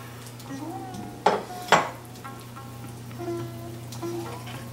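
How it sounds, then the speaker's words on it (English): Pieces of fried fish and brinjal drop into a boiling fish curry, two clattering impacts over a steady bubbling simmer with faint utensil scrapes. "It's now boiling, so I'm going to add the fried fish and brinjal."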